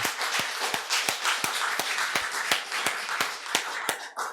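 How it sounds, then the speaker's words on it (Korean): A church congregation at a Sunday morning worship service claps together in a steady, evenly spaced rhythm, about a dozen sharp, close claps in a row. "하나님께 영광의 박수."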